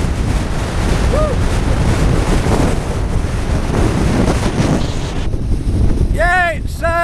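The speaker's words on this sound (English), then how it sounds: "It's a little bit windy." Strong wind buffets the microphone at a UK seaside, roaring continuously over the surf and the rumble of the waves, with a brief voice toward the end.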